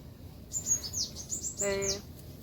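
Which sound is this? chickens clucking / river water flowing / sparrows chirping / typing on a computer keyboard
sparrows chirping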